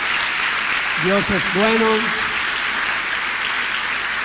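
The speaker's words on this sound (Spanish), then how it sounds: "Dele un fuerte aplauso a su Señor." Church congregation applauding during a Spanish-language sermon, a steady broad wash of clapping running the whole time while a preacher speaks over it briefly.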